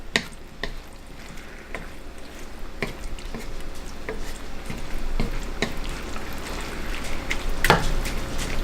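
Ground venison skillet with tomato sauce being stirred in a pan, a steady wet sizzle with soft scraping and squishing strokes at an irregular rhythm, close and moderately loud, no voices.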